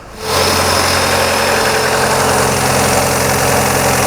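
Freshly rebuilt car engine idling steadily at about 1200 rpm just after its first start, a loud continuous mechanical drone with a low rumble that holds even from beginning to end.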